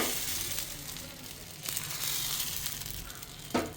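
Appam batter ladled onto a hot pan gives a steady, close crackling sizzle throughout, with a sharp clatter near the end and no voices.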